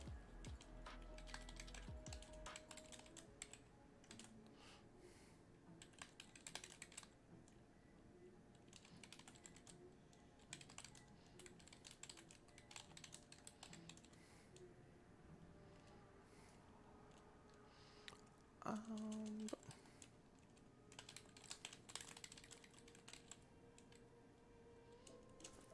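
Computer keyboard typing throughout, steady clusters of soft key clicks at moderate distance over a faint background hum, with no talking.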